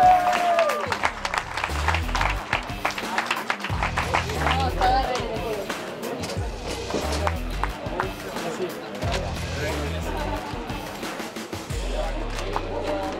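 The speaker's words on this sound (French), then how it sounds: "Vos applaudissements s'il vous plaît" Audience applause for a French cross car racer at an FIA European Cross Car Championship round, steady crowd clapping running under a loud announcer's voice and background music throughout.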